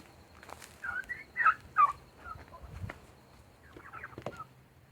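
Domestic turkeys, two toms and two hens, being chased out of weeds, giving repeated nearby gobbles and yelping calls in short bursts, with rustling movement between them.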